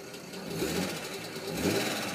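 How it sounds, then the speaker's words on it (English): A BMW 630i M Sport petrol engine idles steadily with a fast, light rattling tick running through it, close and continuous. "there is a slight rattle coming from the engine"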